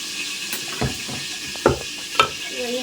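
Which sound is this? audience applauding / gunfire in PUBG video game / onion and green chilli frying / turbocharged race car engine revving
onion and green chilli frying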